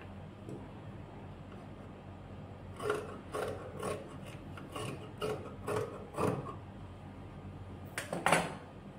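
Scissors snipping through fabric while cutting out a sleeve for a baby's blouse, heard as a series of short rasping cuts in quiet bursts, with a denser cluster near the end and no voices.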